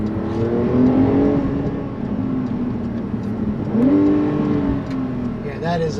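A 2021 Porsche 911 Turbo S Cabriolet (992) accelerating hard on overboost in Sport Response mode, its engine note climbing in two loud rising sweeps with a gear change between, heard from inside the car.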